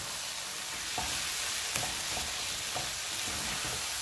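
Cooked rice being stirred into a softened filling in a hot pan, with a steady sizzle and a few soft scraping strokes of the spoon at irregular intervals, close and alone.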